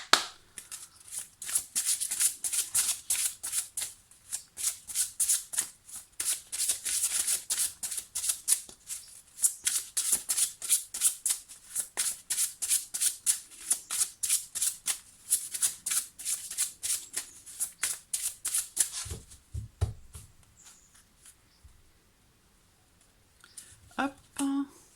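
Tarot cards are shuffled in a long run of quick, rhythmic riffling bursts, close and crisp, then the shuffling stops and a quieter stretch follows, with faint handling near the end.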